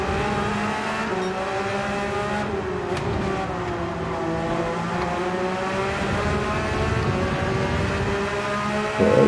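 A race car engine on the Brands Hatch circuit in a racing game drones steadily and close, its pitch rising and falling through gear shifts as it accelerates, with no voices over it.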